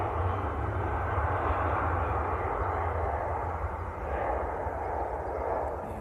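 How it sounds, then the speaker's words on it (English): Airliner taking off at Manchester Airport, a steady, loud jet-engine roar heard from a distance that holds constant throughout, with no voices. "Yeah, very, very short takeoff roll."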